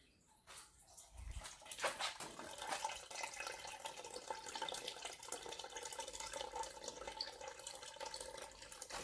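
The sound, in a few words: water draining out of vapor honing bead blast enclosure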